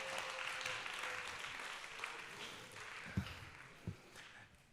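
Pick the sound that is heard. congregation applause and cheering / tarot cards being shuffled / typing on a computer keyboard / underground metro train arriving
congregation applause and cheering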